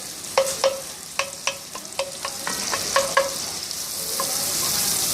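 Sausage taken out of its casing browns in a pan for escarole bean soup, a steady sizzle under a series of sharp scraping knocks from a spoon breaking it up, close and clear with no talking.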